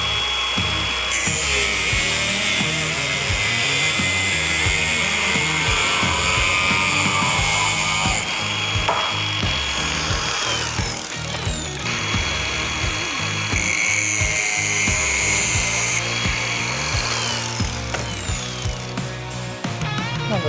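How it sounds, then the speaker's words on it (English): An extra-long drill bit is ground down with a power tool, giving a steady high-pitched whine with shifting pitch. It grinds continuously and close up, with short changes in load. "I'm also going to chop down this extra long drill bit I made for something a long time ago."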